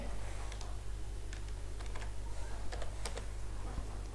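A login code is typed on a computer keyboard: sparse, light key clicks at an uneven pace over a steady low electrical hum, faint and close, with no talking.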